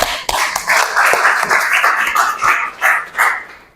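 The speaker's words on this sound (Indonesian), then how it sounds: "Oke, tepuk tangan buat semuanya." A small group claps in uneven bursts, loud and close, with sharp individual claps and a few distinct slaps standing out at the start.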